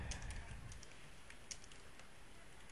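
Light typing on a computer keyboard while writing PHP code, soft scattered key clicks at close range over a quiet background hiss, no speech.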